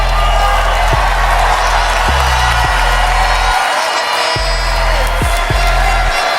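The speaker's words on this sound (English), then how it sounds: "can we give a big round of applause to all the delegates for being a force for good" A large pageant audience claps and cheers for the delegates at the Miss Universe 2023 preliminary competition, loud sustained applause with whoops throughout over a low droning hum.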